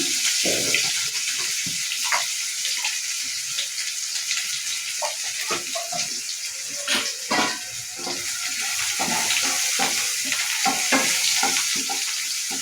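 Chopped onions with turmeric powder frying in a pan for a soya chunk and field bean gravy, with a steady close sizzle and soft scraping as a spoon stirs them through the whole stretch.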